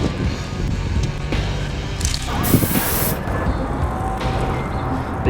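Hacks skateboard spray hisses from an aerosol can in a few bursts, with one sharper, brighter blast in the middle, close up and loud over a rough background.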